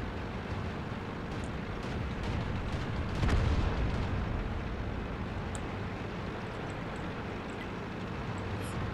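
A tank, a Panzer in the World of Tanks video game, takes a hit: one loud, heavy boom about a third of the way in rises over a steady rumble of engine and battle noise.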